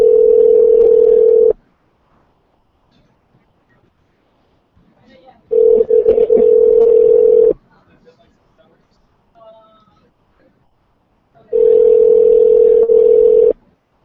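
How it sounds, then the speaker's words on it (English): A telephone line gives three long, steady electronic tones, each lasting about a second and a half and separated by several seconds of near silence, with faint background noise between them. "You got to make sure you're dialing the right number."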